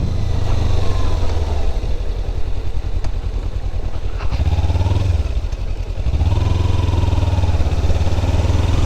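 Kawasaki Ninja 300 motorcycle engine running steadily while riding on a day trip, a loud continuous close-up drone with gentle dips and rises in pitch as the throttle changes, with wind rush throughout and no talk.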